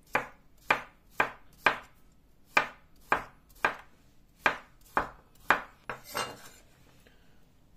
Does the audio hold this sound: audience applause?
no